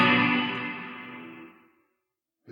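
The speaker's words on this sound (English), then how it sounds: "what he's actually playing is he's just strumming the guitar really fast" Fast-strummed electric guitar drenched in reverb, a dense shimmering wash that swells at once and then slowly decays into silence over about two seconds, with no voices.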